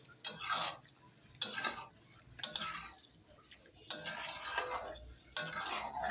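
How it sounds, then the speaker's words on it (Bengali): A spatula stirs fried cauliflower, potato and paneer into spices in a pan, giving five separate bursts of scraping and clinking with quiet gaps between them. "এখন আগে থেকে ভেজে রাখা ফুলকপি, আলু আর পনির সবগুলি একসঙ্গে দিয়ে দিলাম মশলার মধ্যে। এখন একটু ভালোভাবে নেড়ে চেড়ে"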